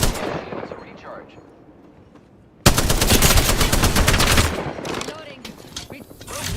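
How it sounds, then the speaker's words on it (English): Rapid automatic gunfire in a chaotic Apex Legends battle royale match, a dense volley that bursts in loudly after a quieter stretch and keeps rattling with sharp repeated shots for several seconds. "I am taking fire."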